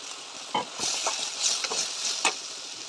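Chopped tomatoes sauté in a pan, a soft steady sizzle broken by several scraping stirs of a spatula close by.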